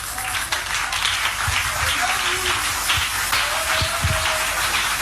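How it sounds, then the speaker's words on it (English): Clapping from a few people in a Ghanaian morning radio studio on a 3 FM show, a steady patter of claps with faint voices underneath. "Are you clapping for that?"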